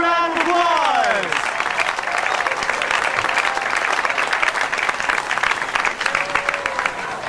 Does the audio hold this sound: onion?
no